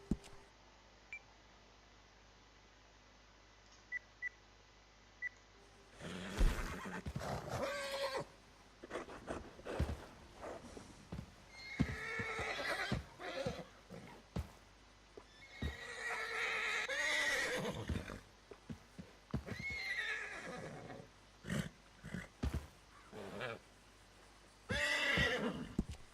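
Horses in the video game Red Dead Redemption 2 neigh and whinny in several loud bursts, mixed with clip-clopping hooves and a few soft game beeps across a long stretch with quiet gaps.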